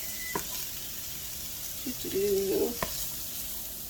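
Onions sizzle steadily in a skillet while being stirred, with a constant frying hiss and a few scraping stirs and knocks of the utensil against the pan, close and moderately loud, no speech.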